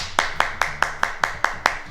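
A group claps in unison during a seated exercise class, about eight sharp, evenly spaced claps in quick rhythm, close and clear over a low background.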